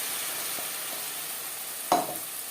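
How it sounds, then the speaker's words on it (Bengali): Tomato mixture frying in a pan gives a steady, even sizzle throughout, broken by one sharp stirring scrape near the end. "সাথে টমেটো বেশ ভালো করে মিক্স করে দেব"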